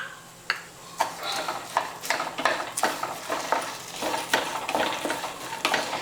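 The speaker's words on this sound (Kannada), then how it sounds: "ಈ ಉದ್ದಿನಬೇಳೆನೂ ಕೆಂಪಾಗಂಗೆ ಹುರ್ಕೋಬೇಕಾಗ್ತದೆ ರೀ" Peanuts, garlic, curry leaves and urad dal roasting together in a pan, a low sizzle broken by repeated rhythmic scrapes and knocks of a spoon against the metal, close and moderately quiet.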